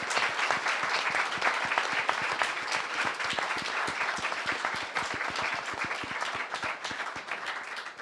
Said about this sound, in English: can we take a beat and just have a round of applause for the people who do this work